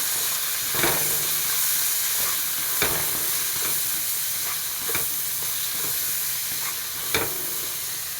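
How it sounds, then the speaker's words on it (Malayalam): Chopped tomato frying in a pan for a drumstick leaf (muringa ila) curry, a steady close sizzle and hiss with occasional sharp spoon-against-pan stirring knocks, no one talking. "ഇതാ ഒരു വലിയൊരു തക്കാളി ഇട്ട് കൊടുക്കുന്നുണ്ട്"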